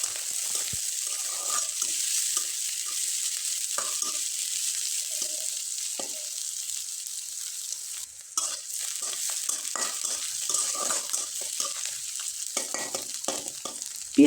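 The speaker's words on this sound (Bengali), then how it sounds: "এরপরে পেঁয়াজ কুচি, রসুন কুচি এবং আদার কুচি, কাঁচামরিচ কুচি দিয়ে খুব ভালোভাবে নেড়ে চেড়ে নিব।" Chopped onion, garlic, ginger and green chilli stir-fried in oil with black cumin: a continuous bright sizzle broken by repeated spatula scrapes and stirring clatter, close and moderately loud throughout.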